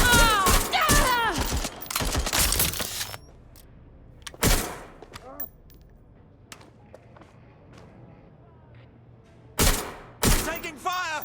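Bursts of gunfire in the video game Watch Dogs Legion, with loud clusters of shots at the start, then isolated sharp blasts separated by quieter stretches, with game voices talking in between.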